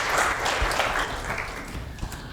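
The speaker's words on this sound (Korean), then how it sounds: "역시 큰 박수 부탁드리겠습니다" Audience at a blockchain forum applauding as a speaker is introduced, a close, steady round of clapping that fades gradually toward the end.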